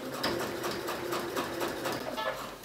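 A sewing machine stitches in the ditch along a back pocket seam on handmade trousers, giving a steady close mechanical whirr with a quick rhythmic needle chatter and no pauses.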